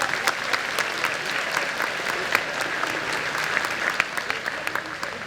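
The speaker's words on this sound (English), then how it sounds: "So Ellie Watkins, please give her a round of applause" Steady, dense applause from a crowd at a chamber of commerce annual banquet, continuous clapping filling the whole stretch at moderate volume.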